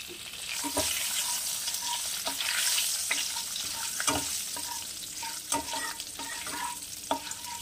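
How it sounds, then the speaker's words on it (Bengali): Whole cumin seeds, a dried chili and a bay leaf sizzle and crackle in hot oil, with a bright steady hiss broken by sharp pops and occasional stirring clinks, fairly quiet and without talk. "ওই তেলেই দিয়ে দেব অল্প একটু আস্ত জিরে, একটা শুকনো লঙ্কা, একটা তেজপাতা।"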